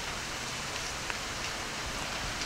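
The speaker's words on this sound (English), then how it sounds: "In the rain." Outdoor rain falls steadily, a dense, even hiss of drops close by with no pauses and no voices.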